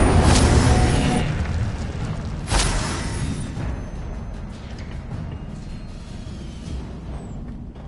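Incendio fire spell in Hogwarts Legacy: two loud fiery bursts a few seconds apart, each a sharp whooshing blast that trails off into a lingering roar and crackle.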